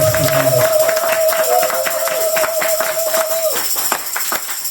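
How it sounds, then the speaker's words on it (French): A church congregation claps in steady rhythm in praise to the Lord, the many hands beating together over a sustained held tone that cuts off partway through, with the loud, lively clapping continuing. "Acclamons plus fort le Seigneur."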